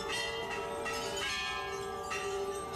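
Temple bells ring repeatedly at Chitai Golu Devta temple in Uttarakhand, with overlapping metallic strikes and sustained ringing tones layered into a continuous shimmer, close and fairly loud, with no talking.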